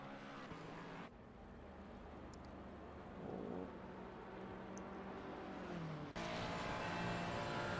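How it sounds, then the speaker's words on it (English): Rain falls on the Barcelona race track as a steady hiss, joined by passing car noise and a sudden louder burst of spray and engine near the end. "It's raining quite a bit less now at the moment."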